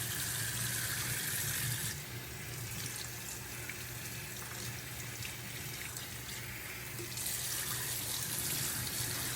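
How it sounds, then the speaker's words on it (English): Tap water runs steadily while a hair topper is rinsed beneath it, a continuous hiss with a brief softer dip in the middle before the full flow returns. "And we're going to rinse some more."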